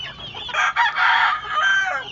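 Rooster crowing loudly and close by on a small backyard poultry farm with hens, a single drawn-out crow with clucking mixed in.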